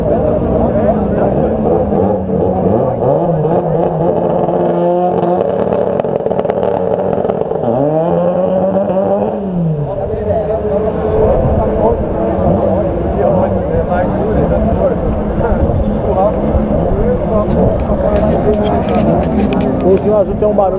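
Drag racing car engines at Interlagos drone and rev continuously at a loud, steady pitch, with one rising then falling sweep midway, as people talk over the noise.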